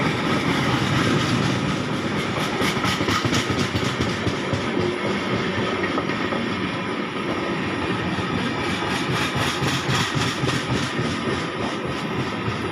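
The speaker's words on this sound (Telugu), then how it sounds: "ఇది తెలంగాణ ఎక్స్ప్రెస్" The Telangana Express runs near Mandamarri with a steady, loud rumble and a rhythmic clickety-clack of wheels on rail joints, heard continuously without talk.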